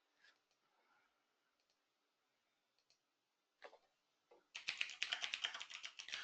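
Typing on a computer keyboard: after a few faint isolated taps, a quick, close run of light key clicks begins midway and continues steadily to the end in an otherwise quiet room.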